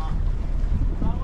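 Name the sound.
fishing boat dual engine running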